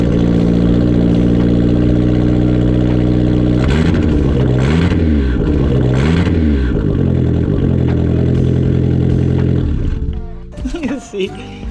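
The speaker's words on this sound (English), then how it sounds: "it's a straight pipe from the turbo down pipe all the way to here" A turbocharged Mazda Miata running a straight pipe from the turbo downpipe with no muffler, a loud raspy drone idling close, then three sharp revs that rise and fall before it cuts off, with talking near the end.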